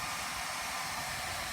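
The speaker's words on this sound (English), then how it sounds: "So here he is with a hair dryer and some plastic spatulas." A hair dryer blows steadily and close by, softening an old cracked clear bra on a Porsche 911 for removal, a constant airy hiss with no talking.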